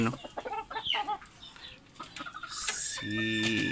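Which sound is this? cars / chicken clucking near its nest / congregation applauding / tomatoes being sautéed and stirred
chicken clucking near its nest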